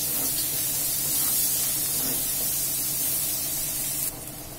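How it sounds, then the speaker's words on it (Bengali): Chopped onions fry in a pan for a dhaba-style chicken masala, making a dense, even hiss that holds steady at close range and drops slightly toward the end, with no voices. "পেঁয়াজটা একটু নরম হওয়া পর্যন্ত ভেজে নেব।"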